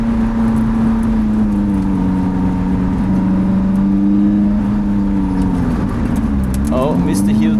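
A Lotus Elise engine revs through a heel-toe downshift, its steady close, loud drone holding pitch, then dipping and climbing again near the end as the throttle is blipped.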